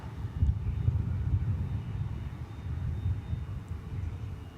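American Airlines Boeing 787-9 taking off from the east side of DFW Airport, a steady low jet-engine rumble that holds at a fairly even level throughout, heard from a distance with no voices.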